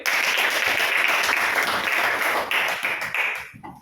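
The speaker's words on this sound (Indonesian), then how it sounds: "tepuk tangan untuk April" Students in a classroom clap for a classmate, a lively burst of many hands that holds steady, then tapers off and fades out near the end.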